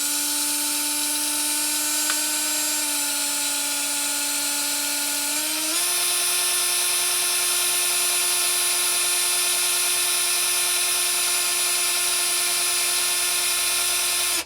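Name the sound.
drill winding a sewing machine bobbin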